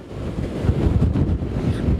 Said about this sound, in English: it's way too windy to bring the camera down there